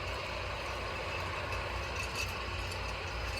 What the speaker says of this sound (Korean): 걸음을 트랙터로 어, 퇴비 살포기를 이제 이용해서 걸음을 뿌리는 거죠